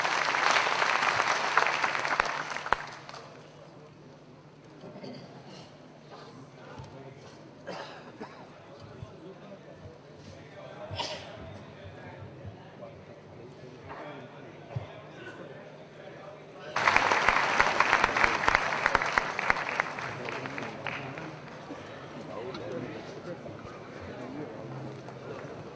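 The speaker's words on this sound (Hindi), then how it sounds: "आप सभी से निवेदन है कि जोरदार तालियों से उनका स्वागत करें" Guests are welcomed at a stamp release function with a crowd's applause: a burst of clapping at the start fades into murmuring and a voice, then a second strong wave of clapping returns and carries on.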